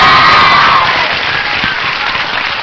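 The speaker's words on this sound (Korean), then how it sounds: "여러분 큰 박수로 만나주세요." A concert crowd at a public radio broadcast erupts in loud, sustained cheering and applause, with high shouts and screams layered over continuous clapping that slowly eases off.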